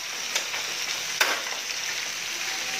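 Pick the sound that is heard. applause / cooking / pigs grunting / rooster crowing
cooking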